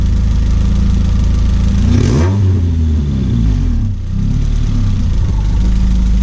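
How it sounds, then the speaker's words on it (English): A 1992-96 Honda Prelude engine with a swapped engine, sticky throttle and partly fitted exhaust idles loudly nearby, then revs up with rising pitch, falls back, and revs again before settling into a rough idle. "let's see what it sounds like revving up out here."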